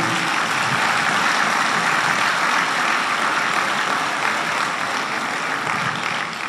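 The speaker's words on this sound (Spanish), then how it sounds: "Un aplauso al Señor." A church congregation breaks into loud, sustained applause that stays dense and steady for the whole stretch, with only a slight fade at the end.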